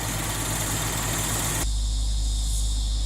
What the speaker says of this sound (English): you get this real bellow through the exhaust pipes